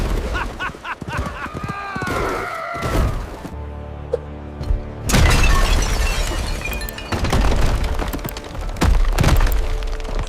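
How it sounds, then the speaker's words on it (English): A horse gallops through a market straight over clay pots, heavy thuds and crashing shatters bursting out in loud clusters, with a brief ringing lull between the impacts. "a drunken hussar came galloping through the market."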